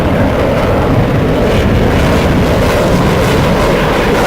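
Roaring F-104 Starfighter jet engine at full power in a flight video game, a loud, steady broadband rush with no break for the whole stretch.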